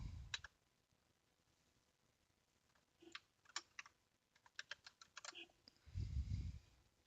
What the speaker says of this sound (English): Ooh, getting used to a new keyboard.